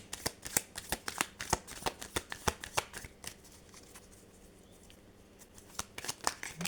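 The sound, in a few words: shuffling oracle cards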